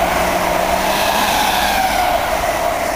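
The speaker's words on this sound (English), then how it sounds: "Second train approaching Needham Lake." A train rushes past at Needham Lake, a steady broadband roar with a faint low hum running throughout, loud and constant for the whole stretch, with wind adding to the noise and no voices.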